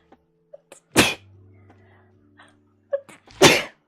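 A person sneezes twice up close, two loud sharp bursts a couple of seconds apart, with a low steady hum and small clicks in between.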